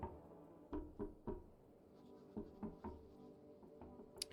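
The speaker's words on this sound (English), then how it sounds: "they're just knocking on my windows forever then" Knocking on windows in a video game: dull thuds in small clusters, a quick triple knock and then scattered pairs, repeating over a low ambient hum.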